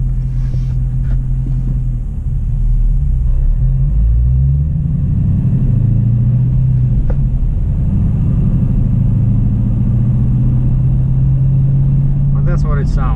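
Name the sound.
2018 Dodge Challenger R/T 392 Scat Pack engine while driving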